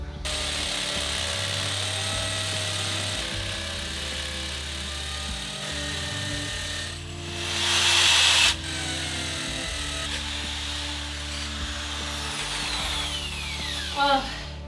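A hammer drill whirs steadily, then bites into wood with a louder, rising grind for about a second before stopping, over a constant low mechanical hum.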